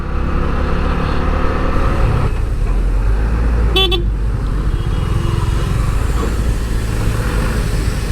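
Road traffic jam on a street where the road is being repaired, with a loud constant engine and road rumble and one short car horn toot near the middle, heard from a motorcycle.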